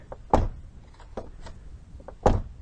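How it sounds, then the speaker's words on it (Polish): A rear passenger door of a 2005 Alfa Romeo 147 1.6 T.S. clicks open and shuts with a solid thunk, then a few quieter latch clicks follow before a second heavy slam near the end. "dźwięk otwierania i zamykania drzwi"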